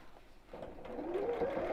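A sewing machine stitches across the top edge of lined fabric, its motor starting up and running in a steady close whirr that rises slightly in pitch.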